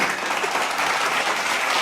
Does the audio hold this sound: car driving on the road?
no